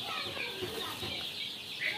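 Tiger chickens at a poultry farm in Bakshiganj, Jamalpur, cluck softly and continuously in a low, murmuring background chorus, fairly faint and without any single bird standing out close by.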